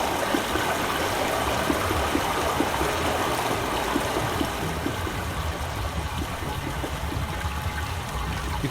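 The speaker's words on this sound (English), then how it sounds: "You can hear it, right? The water is now going through this pipe." Water rushing through a pipe in the remastered video game Myst, a steady broadband hiss and gurgle that stays level throughout with no talk.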